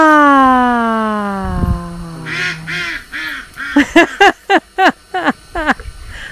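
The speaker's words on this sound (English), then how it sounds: "The laughing ducks again." A run of short, bright nasal honks, loud and close, coming one after another in a quick, uneven series, like ducks calling, after a sliding siren-like tone fades.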